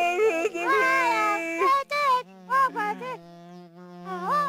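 A cartoon fly buzzes in a series of wavering, pitch-bending hums with brief gaps, close and clear, as if darting about.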